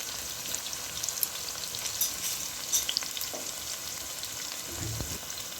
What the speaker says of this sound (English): I'll let it fry.